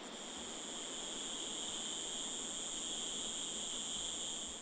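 A dense, steady electric drone of cicadas fills a jungle in Madagascar's eastern mountains, with high shrill bands holding constant and no pauses, loud and continuous throughout.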